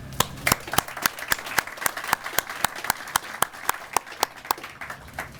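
An audience at a Safety Town 50th anniversary celebration gives a round of applause, sparse and fairly close, with distinct sharp claps in a loose, uneven rhythm.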